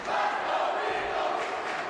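Plymouth North fans in a high school hockey rink chant in a steady, blended roar a short distance off, a continuous wash of crowd voices with no single call standing out.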